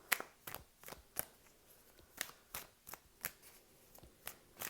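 A tarot deck being shuffled and cards pulled, heard as a run of crisp, separate snaps and flicks coming every half second or so, quiet and close with no talking.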